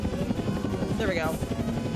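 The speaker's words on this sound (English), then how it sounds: "Oh, board the helicopter." A helicopter in the video game Tower Unite whirs with a steady rotor buzz, loud and close, while a player talks over it.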